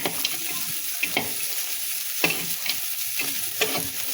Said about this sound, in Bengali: কুমড়ার বড়ি দিয়েছিলাম কড়াইতে, দিয়ে কুমড়ার বড়িগুলো ভেজে নিলাম।